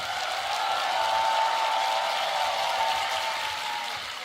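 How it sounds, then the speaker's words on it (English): A large audience at the GBB23 Grand Beatbox Battle tag team final applauds for the tag teams, a dense, steady wash of clapping that holds loud for about four seconds and eases slightly at the end. "I want to get a huge round of applause for every tag team that was on this stage"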